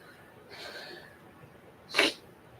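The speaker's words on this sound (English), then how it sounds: "excuse me, I gotta sneeze" A single sharp sneeze bursts out after a soft breathy intake, loud and close, followed by quiet.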